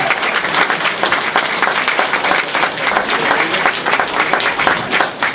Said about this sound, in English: So a great big thank you and a round of applause to Betsey McCaughey.